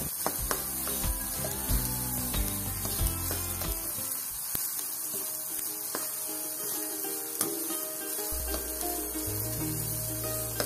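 Red and yellow bell peppers frying in a pan, a steady close sizzle broken by repeated clacks and scrapes of a spoon stirring, with a low hum entering near the end.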